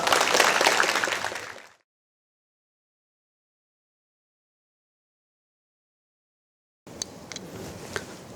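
An audience at an academic symposium on the Donghak Peasant Revolution in Jeongeup claps loudly, then the applause fades into silence, followed later by quieter room noise with a few faint knocks.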